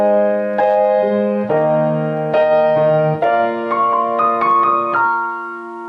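Solo piano plays the pre-chorus of a song with both hands, steady repeated chords under a stepping melody that climbs toward the end, clear and close.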